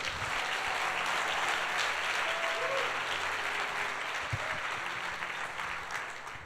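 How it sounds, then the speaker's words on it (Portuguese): Congregation applauding during a prophetic church service, a dense, steady wash of clapping that holds loud for several seconds before easing slightly toward the end. "Quem crê e recebe, dá um aplauso ao Senhor"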